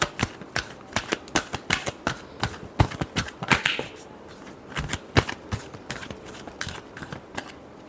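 Tarot cards being shuffled by hand, a rapid series of crisp riffling slaps and snaps, close and moderately loud, with brief pauses between bursts and no voice over them.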